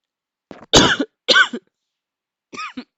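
Several harsh coughs in quick succession, close up, followed after a pause by a softer, shorter double cough.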